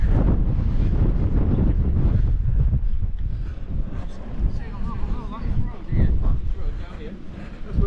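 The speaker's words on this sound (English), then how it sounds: "I'll find somewhere out of this wind" Strong wind buffets the microphone on an open hillside near Stoodley Pike, a loud, rough, gusting roar throughout that eases slightly in the middle, with a voice faintly present beneath it.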